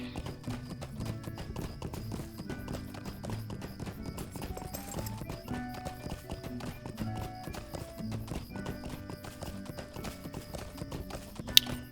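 Horse hooves clop in an even, unbroken rhythm over layered background music, with a sharp tap right at the end, in the video game The Lord of the Rings Online.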